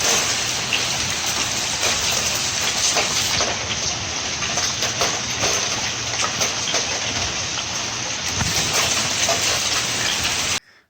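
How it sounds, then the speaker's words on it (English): A loud hailstorm hammers down outdoors along the Continental Divide Trail, a dense, even roar of impacts that stays strong throughout and then cuts off abruptly at the end. "We got ourselves a hailstorm right now, and she is loud."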